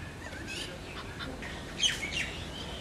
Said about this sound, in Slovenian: O, lepa ptica.